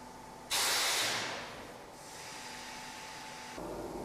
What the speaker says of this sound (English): The material is automatically injected into the cavity, steam heating molding.